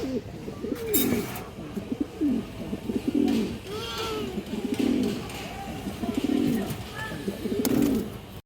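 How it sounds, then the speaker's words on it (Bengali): Two high-quality female pigeons, including a silver-necked one, coo in repeated soft, throaty phrases close by, with faint chirps and background noise in a morning pigeon market setting. "হাই কোয়ালিটির দুইটা মাদি কবুতর"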